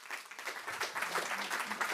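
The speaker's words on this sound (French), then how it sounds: "Sous vos applaudissements, mesdames, messieurs." An audience at a French talk event applauds to welcome a journalist onstage, a dense, even patter of many hands clapping at moderate distance.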